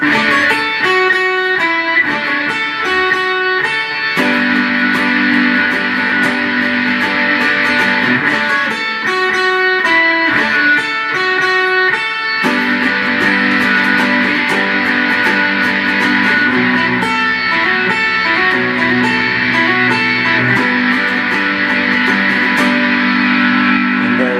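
Electric guitar plays with effects and mild overdrive, a continuous loud riff-and-chord passage with short breaks between phrases, no voices.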